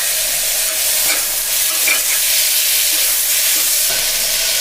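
Tomatoes sautéing in a pan for a bottle gourd curry give a loud, continuous sizzle close by, with occasional soft spoon scrapes and crackles rising through the hiss.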